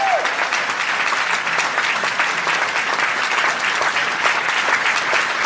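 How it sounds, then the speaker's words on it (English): A town hall audience claps steadily and loudly for the full stretch, a dense wash of hands with no pauses and only faint voices underneath. "Give yourselves a round of applause."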